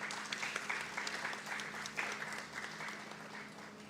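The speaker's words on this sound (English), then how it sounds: "Let's give them a round of applause." An audience claps for the winners of the Girls in ICT Day 2024 mobile app development competition at the NTRC Tech Expo 2024. The applause is a fairly soft, sustained patter from a room-sized crowd.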